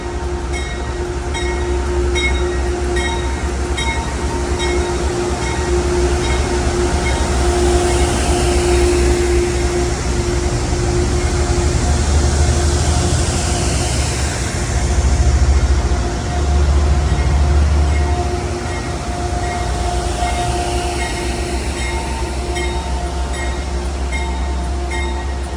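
Rumbling, idling diesel locomotive power detached from the Lake Shore Limited from New York, moving off with a steady engine drone, a sustained tonal hum and faint wheel squeal, loud and continuous throughout.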